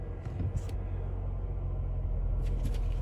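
A 2020 Mercedes GLA 250 compact SUV engine idles with a steady, low rumble that stays close and even throughout, with a couple of brief higher swells along the way.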